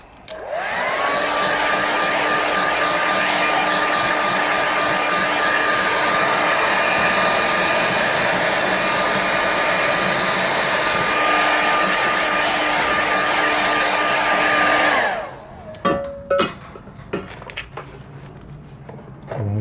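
A hair dryer blows steadily and loudly on a watercolour painting for about fifteen seconds, then shuts off, leaving brief taps and small handling noises.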